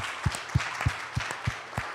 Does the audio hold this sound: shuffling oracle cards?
no